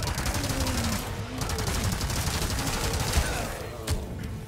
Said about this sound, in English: I think now would be a good time for the machine gun.